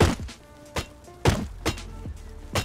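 In the game Rust, a metal hatchet chops while farming: about six hard, hollow thunks land at uneven intervals, each a close, sharp wooden impact with a short decay.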